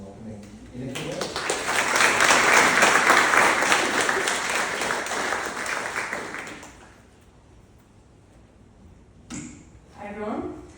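Audience applause at a launch event, rising quickly into a full, sustained round of clapping for several seconds, then fading out, with brief voices and a short noise afterward.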